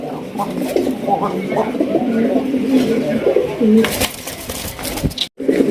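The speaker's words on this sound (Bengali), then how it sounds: "একদম লাল এক একজোড়া বোম্বাই কবুতর ডাকের কি স্টাইল দেখেন" A pair of red Bombay pigeons coo repeatedly at close range in a pigeon farm, with soft rhythmic warbling calls while a person's voice talks over part of it.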